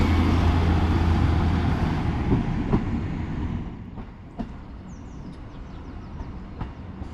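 Diesel train 153325 pulls out of a station on the Heart of Wales Line with a loud, close rumble that fades as it moves away, leaving quieter rail noise and faint clicks.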